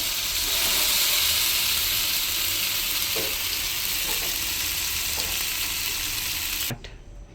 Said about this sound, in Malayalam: ഞാൻ ഇതിൻ്റെ കൂടെ പൈനാപ്പിൾ ഒന്ന് പാൻ ഫ്രൈ ചെയ്ത് വെക്കുന്നുണ്ട് ബട്ടറിൽ.